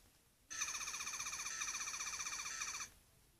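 A 12th Doctor sonic screwdriver toy emits a single warbling electronic trill lasting about two seconds, a rapid pulsing chirp that rises and repeats before stopping, quiet and close.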